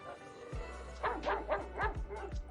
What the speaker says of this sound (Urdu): اور کبھی کتے کی طرح گھراتی